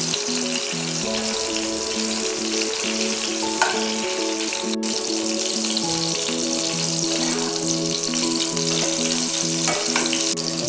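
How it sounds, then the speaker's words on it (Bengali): Food for homemade chowmein fries in a pan, turned from side to side, giving a loud, constant hissing sizzle with a soft melodic tune playing underneath. "ভালো করে এপিট ওপিট করে ভেজে নিতে হবে"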